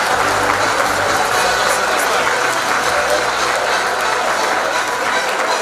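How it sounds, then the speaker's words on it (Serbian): An audience at a public gathering applauds loudly and steadily, a dense, continuous wash of clapping that lasts the whole stretch without a break. "Molim vas jedan veliki aplauz za ovaj do sada nezabeleženi tandem"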